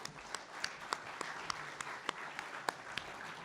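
A small, scattered round of applause at a cybersecurity capture-the-flag event, fairly faint and distant, with a few sharp individual claps standing out over a soft background.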